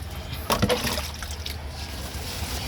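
Water pours onto potted plants, trickling and splashing softly, with a brief louder gush near the start, continuing as a gentle steady pour.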